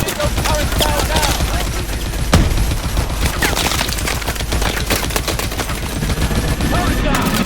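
Intense gunfire aimed at an enemy turret in the shooter Call of Duty: Advanced Warfare, continuous rapid automatic bursts with loud sharp cracks and a booming impact near the middle, dense and close.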